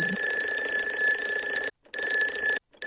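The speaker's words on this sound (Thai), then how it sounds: "แล้วตอนที่นาฬิกาปลุกนั้นก็ดังขึ้น" A loud, continuous electronic alarm clock rings in the video game Call Hating, a steady harsh tone that cuts out briefly twice near the end.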